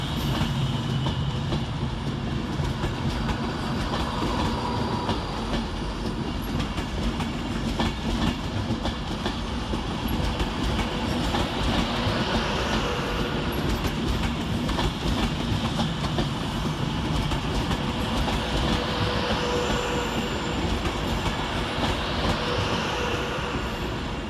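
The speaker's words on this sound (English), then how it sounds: "Whilst departing at the same time is 319010, working the 1055 Avanti West Coast service to London Euston via" Class 319 electric train 319010 departing Manchester Piccadilly station on an Avanti West Coast service to London Euston: a steady, loud rumble of wheels and traction with clattering and a rising whine, continuous throughout with no talk.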